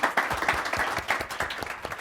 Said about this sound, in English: can we please give a warm round of applause for Frank?